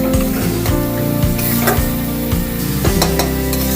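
Water hits a hot pan of frying spice mix for a mochar ghonto, giving a constant loud sizzle and hiss with spoon scraping and stirring throughout.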